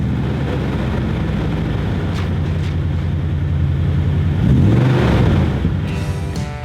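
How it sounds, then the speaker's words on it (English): A pickup truck with a 5.7-liter V8 and TRD exhaust idles with a steady, loud low rumble, swelling briefly as it revs partway through before settling again. "Here's a clip of the truck starting up."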